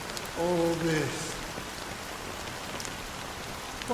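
Steady rain falls continuously in Honkai Star Rail, a soft even hiss throughout, with a brief voice near the start.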